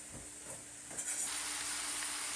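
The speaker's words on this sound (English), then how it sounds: "I'm browning the meat, sauteing the onions, chopping up some garlic." Meat and onions sizzle in a hot pan, a steady broadband hiss that swells and brightens midway, with faint stirring scrapes and no voices.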